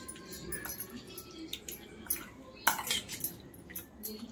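Soft clinks and scrapes of a spoon mixing food in a bowl, irregular and close, with one sharper knock partway through.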